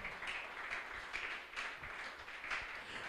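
A church congregation applauding during a Portuguese-language service, a steady, moderately distant wash of many hands clapping that continues without pause.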